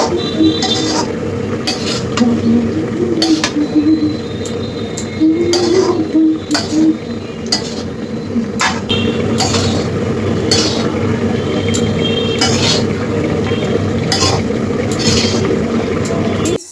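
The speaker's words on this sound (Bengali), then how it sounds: "দিয়ে ভালো করে ওই সবজিটার সাথে ভেজে নেব।" Parboiled basmati rice being stirred and fried with vegetables in a pan for veg biryani, with steady clinks and scrapes of a utensil against the pan over a continuous cooking background.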